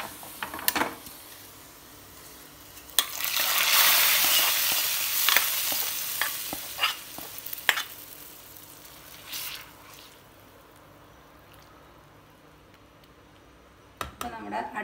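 A hot tempering is poured into a coconut-based Kerala mackerel fish curry with raw mango and gives a loud burst of sizzling that slowly fades, followed by scattered stirring clicks and pan taps.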